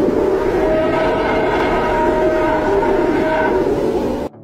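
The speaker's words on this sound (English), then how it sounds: "This is the sound of the sun," A space probe recording of solar wind: a steady, dense rumbling drone with faint whistling tones drifting through it, continuous and unbroken before cutting off abruptly at the end.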